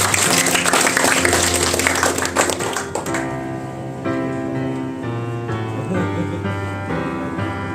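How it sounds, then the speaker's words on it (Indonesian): Dense crowd clapping at a trade union meeting in Batam fills the first three seconds, then fades as music with steady sustained tones carries on. "Tepuk tangan."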